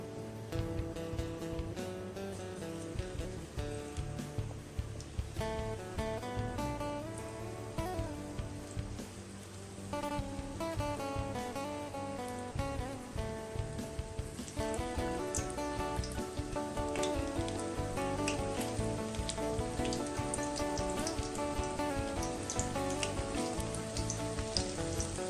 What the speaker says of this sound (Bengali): এবার আমি ফ্রাই করে নিচ্ছি